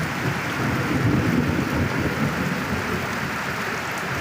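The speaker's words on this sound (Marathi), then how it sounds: "आणि या विजापासून सावधान राहणे विजा वारे जिकडे तिकडे पाणी" A heavy monsoon thunderstorm pours rain and rumbles with thunder in one dense, unbroken roar, and no voices can be heard.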